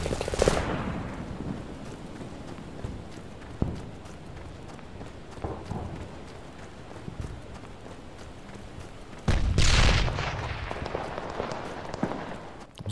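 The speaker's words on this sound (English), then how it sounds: "Let's see if we can get a few rounds off on this bad boy." Gunfire in the pre-alpha World War shooter game Fog of War, a few loud sharp shots with reverberant tails separated by quieter stretches of footsteps and ambient battle noise; no talking.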